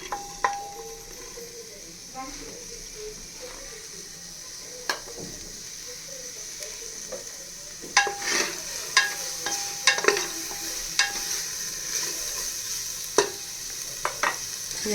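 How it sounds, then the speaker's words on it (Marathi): Onion goes into hot oil in a pressure cooker for biryani, giving a soft, continuous sizzle that is faint at first, then livelier scraping and clinking of stirring against the metal. "तर या ठिकाणी मी कांदा ॲड करत आहे"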